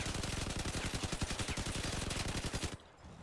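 Rapid-fire machine gun in the vehicle combat game Crossout fires a dense, steady burst of shots for nearly three seconds, loud and close, then cuts off abruptly into near silence.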